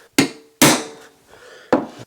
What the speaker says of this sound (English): I'm going to go ahead and center punch it, which will keep my drill bit right where I want it